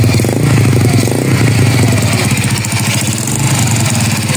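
A Honda XRM 110 motorcycle engine fitted with a new 53mm cylinder block runs steadily and loud up close, a dense, rapid mechanical chatter throughout with no talking.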